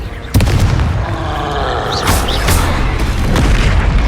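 In Hogwarts Legacy, a Confringo fire spell is cast and sets off a heavy booming blast that opens abruptly and then stays as a loud sustained roar, with a couple of brief whooshing effects over it.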